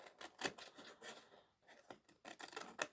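Small scissors snipping through a paper greeting card, a run of close, quiet rasping cuts in irregular bursts with a short pause midway and no talk.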